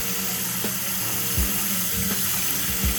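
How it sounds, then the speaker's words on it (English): Hot water runs steadily from a tap into a sink during a leak check under a handyman repair, a continuous close splashing flow with faint clunks and no voices. "I'm running hot water"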